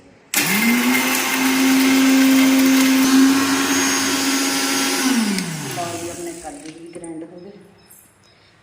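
A kitchen mixer grinder whirs loudly while grinding cashews, rising abruptly to a steady high motor whine for about five seconds, then winding down with a falling pitch before stopping.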